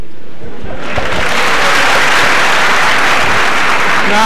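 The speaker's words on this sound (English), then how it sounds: "Any more clapping, I will clear this hall." A crowd applauds in a packed hearing hall, loud, dense clapping that swells after a brief start and fills the room throughout.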